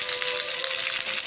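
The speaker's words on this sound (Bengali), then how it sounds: "পেঁয়াজ কুচিটা অল্প ভেজে নেব।" Chopped onion frying in hot oil in a pan, a steady close hiss and crackle that continues evenly throughout, without speech over it.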